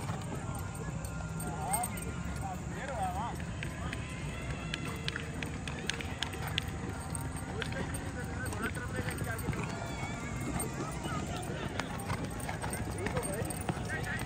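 Many horses' hooves clip-clop in a busy, uneven patter on hard ground, with people talking in Hindi/Urdu over the clatter.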